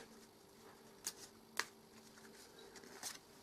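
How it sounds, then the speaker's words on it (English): Eldritch Horror board game cards being shuffled by hand at a table, a few quiet, crisp riffles in short bursts, close and faint, with no talking. "shuffle that up."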